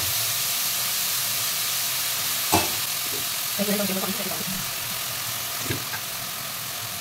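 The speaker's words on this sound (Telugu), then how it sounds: "ఇవన్నీ బాగా ఫ్రై అవ్వాలి" Sliced onions with turmeric fry in a pan for an egg and dried prawn curry, a steady hissing sizzle with a couple of scraping stirs and a brief clatter partway through.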